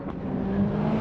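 A Viper race car at the 1999 Le Mans race rumbles past with a brief, loud engine roar and a steady low drone that swells slightly toward the middle.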